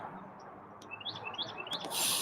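A red-winged blackbird calling with a quick run of whistled, slurred notes that ends in a harsh buzzy trill, set over a low steady background hum.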